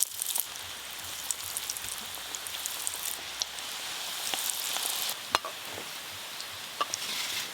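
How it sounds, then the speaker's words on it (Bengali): Steady sizzle of loitta fish chops frying in lightly hot oil, a continuous crackling hiss with scattered sharp pops and spits throughout, close and without talk. "হালকা গরম তেলে চপগুলো ভেজে নেব"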